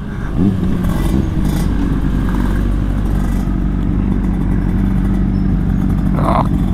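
Engine of a 2022 Honda CBR 600RR sport bike on a test ride, a loud steady drone close to the microphone with rattling clatter and a brief higher rev burst near the end.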